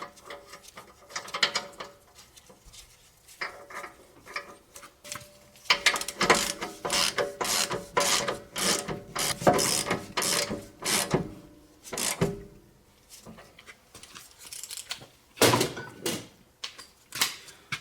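Repeated ratchet clicking in quick bursts as a big strut nut is run down on a Toyota Sienna's front strut during suspension replacement, close and fairly loud with brief pauses between runs.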